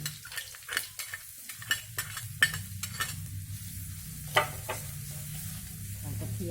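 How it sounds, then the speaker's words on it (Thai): Garlic sizzling in a pan at the start of stir-fried morning glory with egg, a quiet steady frying hiss broken by scraping stirs and a few sharper clatters, with no talking. "ยายก็จะลงกระเทียมก่อน"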